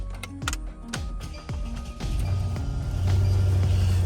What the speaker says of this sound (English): let's go ahead and start the car